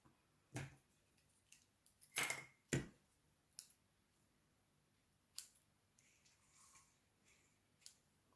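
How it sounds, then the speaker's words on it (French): Scissors snipping two small pieces of craft ribbon, heard as a few sharp, close, isolated snips spaced apart in a quiet room, with a couple of stronger cuts and lighter clicks between. "je vais venir couper deux petits morceaux de ruban"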